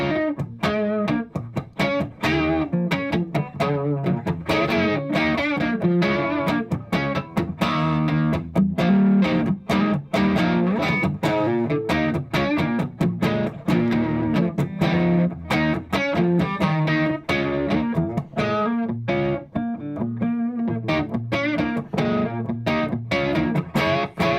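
Distorted electric guitar riff played through a Boss Catalyst 100 amp, dry with no delay or reverb, loud and continuous with chunky strummed chords and rhythmic stabs throughout.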